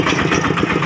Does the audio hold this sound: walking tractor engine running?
yes